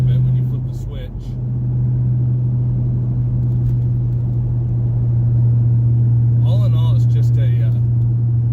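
Low steady engine and exhaust drone from a 1999 Chevrolet Camaro while driving, with an exhaust that switches can open up; constant rumble throughout with faint higher chirps near the end.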